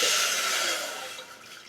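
Water pours from a tap into a pot for boiling pasta, a bright hissing splash that is loud at first and then gradually fades over a couple of seconds.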